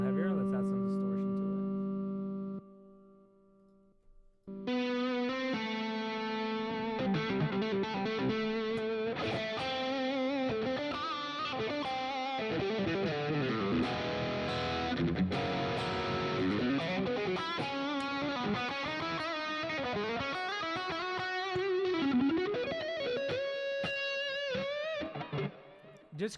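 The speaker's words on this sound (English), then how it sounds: "you want to hear it a little heavier? Let's add some distortion" An electric guitar played through distortion, with sustained overdriven notes and bends ringing out loud and continuous after a brief quieter start.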